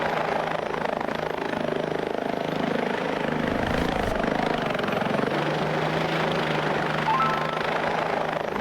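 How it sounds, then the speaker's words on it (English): A helicopter in BeamNG.drive thumps and whirs with steady rotor chop and engine drone, a loud surge building around the middle before settling, heard alone. "Helicopter."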